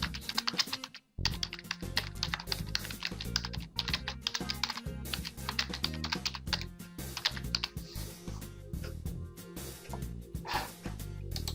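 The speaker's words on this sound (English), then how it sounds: "you can previously select the text and then just type" Rapid computer keyboard typing while entering text in Adobe InDesign, a dense run of close, crisp key clicks and taps that continues steadily with only a brief pause near the start.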